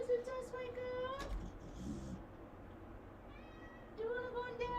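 A cat meows twice, a drawn-out wavering call at the start and another near the end, with a quiet indoor pause between and faint background noise.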